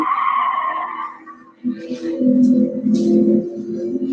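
Vintage Alfa Romeo race car engine in GT Sport, a gruff low growl that drops away briefly then surges back, rumbling steadily with scrappy tire noise over it.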